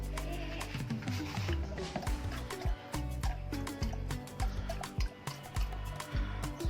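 Tap water drips and trickles through a carbon filter meant to strip chlorine, a steady run of close, distinct drops and small splashes without a break.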